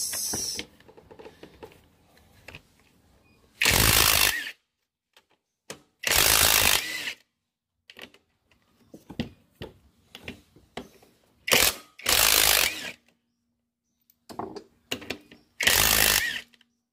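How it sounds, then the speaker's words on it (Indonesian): A 12 mm wrench loosens the cylinder (boring) bolts on an engine being stripped: short ratcheting clicks alternate with several loud, harsh bursts of scraping and turning, close by and with no voices. "lalu baut boring pakai kunci 12"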